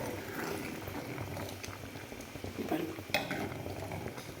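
Eggplant kuzhambu simmers in a pot, a soft continuous bubbling with occasional light clinks of a utensil against the vessel, close and low in level.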